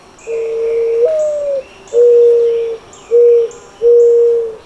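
Mourning dove cooing up close, four clear, soft, hollow low notes in a slow, even rhythm with short pauses between them.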